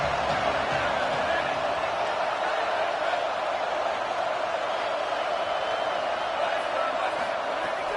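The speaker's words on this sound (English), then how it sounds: "Decibels rising as the crowd gets behind this defense on 3rd down." Steady crowd roar swells throughout a stadium football game as fans rally behind the defense on third down, a dense continuous wash of voices with no clear breaks.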